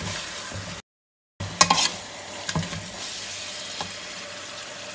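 Masala with clove and cinnamon powder fries in a pan for mutton pulao, giving a soft, steady sizzle that cuts out briefly, then returns with a few light clinks and scrapes of stirring.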